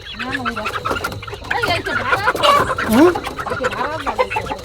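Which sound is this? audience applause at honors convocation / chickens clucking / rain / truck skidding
chickens clucking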